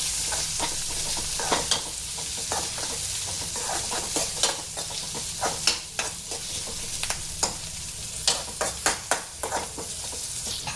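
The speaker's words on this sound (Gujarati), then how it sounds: "હવે આના અંદર આપણે શિમલા મિર્ચ એડ કરીશું અને પછી ટમાટર એડ કરી દઈશું. હવે આને બરાબર મિક્સ કરી લઈશું." Capsicum and tomato are stir-fried over full flame in a pan for chilli paneer. A continuous sizzle sits under repeated scraping strokes of a spatula, which come in an irregular rhythm and sound close and fairly loud.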